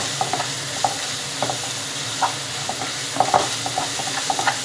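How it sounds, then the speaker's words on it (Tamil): Ginger garlic paste is sautéed in a pan over low heat while a spoon stirs it, making repeated soft scraping taps over a constant close sizzle. "இஞ்சி பூண்டு பேஸ்ட் ஆட் பண்ணதுக்கப்புறம் 1 நிமிஷம் சிம்மில் வதக்கிக்கோங்க."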